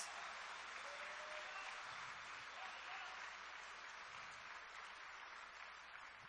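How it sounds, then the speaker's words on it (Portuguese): A church congregation at a Sunday service applauds together, a constant, even roar of clapping heard from a distance and at low level throughout. "aplauda ao Senhor com toda a tua força"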